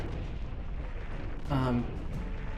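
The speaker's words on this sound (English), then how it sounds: "Explosions tend not to be stealthy." Explosions in the Owlboy video game come through as a short, muffled boom partway through, rising briefly out of a low, steady rumble of game sound.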